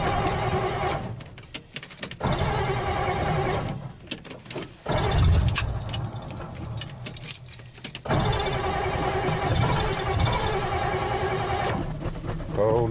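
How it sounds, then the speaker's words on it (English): An old 1959 Ford Galaxie Fairlane 500 with no choke hooked up, found in a storage lot, cranks loudly and repeatedly in long bursts, stumbling as it tries to catch, with someone speaking over it. "We'll see if this old Ford will start."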